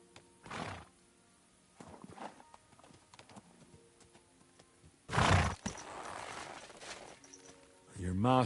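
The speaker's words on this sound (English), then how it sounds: "Your master is in a better place now, horsey." A horse in the medieval video game Kingdom Come Deliverance 2 gives a loud whinny, with hoof clip-clops and a short snort before it and another rising neigh at the end, amid quiet game ambience.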